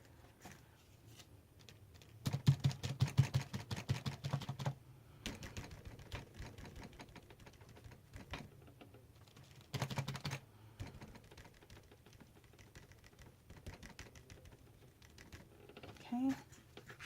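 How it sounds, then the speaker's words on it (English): Black pencil shading on paper in a mixed-media art journal: faint, close scratchy strokes come in short bursts with quiet gaps between them. "taking the black pencil and doing a bunch of shading"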